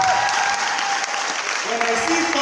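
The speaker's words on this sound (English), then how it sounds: "a round of applause for him again" A live audience at an awards and honours event gives a round of applause for a man, steady dense clapping filling the whole moment, with voices faintly mixed in.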